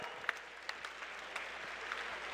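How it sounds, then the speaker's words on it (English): A faint, distant round of audience applause for the judges at a FIRST Robotics event at Georgian College, a thin wash of clapping with a few sharper claps standing out. "Give them a round of applause for all their efforts today."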